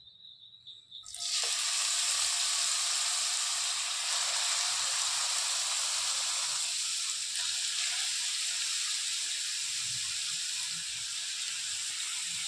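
Grated carrot for gajar halwa dropped into four tablespoons of hot ghee, bursting into a loud, steady, close sizzle that holds nearly unchanged, easing slightly toward the end, with no voices.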